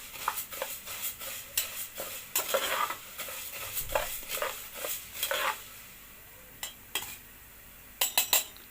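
Vermicelli browning in a hot pan, with a soft sizzle under repeated scraping and clinking of a utensil stirring against the metal, close and fairly quiet.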